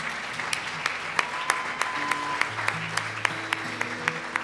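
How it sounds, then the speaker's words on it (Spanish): A church congregation applauds after a sermon, a sustained wash of clapping with sharp individual claps standing out, while soft sustained music plays underneath. "Dale un aplauso al Señor."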